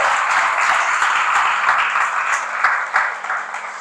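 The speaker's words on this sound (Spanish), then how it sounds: "Aplauda a Jesús con fuerza" A church congregation applauds Jesus during a sermon, dense steady clapping filling the room throughout, with a few sharper claps standing out near the end.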